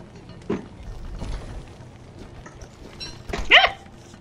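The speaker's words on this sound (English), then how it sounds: "those were little barking plant things" Evil birch tree creatures in the game Don't Starve Together give short barking yelps, one soft bark early and a louder sharp bark near the end, over a low murmuring game ambience.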